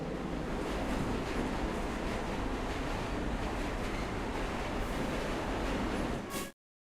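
A train in the video game Luna Abyss arrives at the end of the line, heard as a steady, loud rumbling roar that holds for several seconds and then cuts off abruptly.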